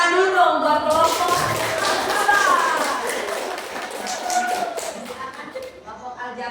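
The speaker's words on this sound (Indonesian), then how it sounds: "Tepuk tangan dulu dong buat kelompok." A school class claps for a group of students who have just presented, scattered hand claps mixed with voices and shuffling in a classroom.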